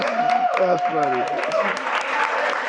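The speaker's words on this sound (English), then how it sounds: "Let's give them a round of applause." An audience at a money and retirement talk claps in a short burst, with a voice speaking briefly over the applause.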